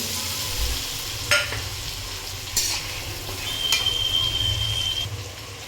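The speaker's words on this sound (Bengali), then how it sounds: "ভালো করে দু তিন মিনিট নাড়াচাড়া করে নেব" Ginger and onion pastes with potato and chopped tomato fry in a pan, a steady close sizzle broken by a few scraping stirs.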